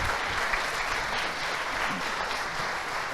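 A conference audience applauds a speaker after a talk on retail chains ending paper advertising leaflets, a dense, sustained wash of many hands clapping at moderate loudness with no pauses.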